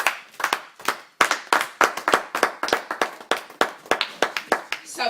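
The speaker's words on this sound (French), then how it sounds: "Acclamons le Seigneur." A church congregation claps in a brisk, steady rhythm of roughly four beats a second, close and crisp, to acclaim the Lord.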